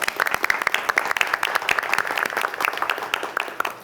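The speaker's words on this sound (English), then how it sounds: "I believe Susan deserves a round of applause for that with her team" Applause at a board of education meeting, a roomful of people clapping with sharp, distinct hand claps in a brisk, uneven rhythm, fairly close and sustained without talk.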